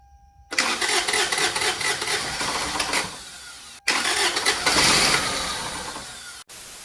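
Toyota Celica TRD engine cranking on its first start-up, a loud continuous churning of the starter and engine that runs for about three seconds, breaks off briefly, then resumes for roughly two and a half seconds more before cutting out.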